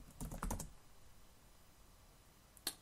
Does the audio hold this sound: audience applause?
no